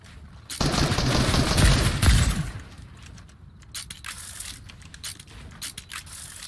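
Rapid automatic gunfire in Fortnite, a dense loud burst lasting about two seconds, followed by scattered quieter shots and clicks.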